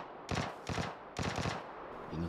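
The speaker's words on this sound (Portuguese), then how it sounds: "Agora tem mais um cara atirando lá atrás." Gunfire from another player in PUBG on Xbox One X: three loud, near bursts of rapid automatic shots with short gaps between them, and a faint tail at the end.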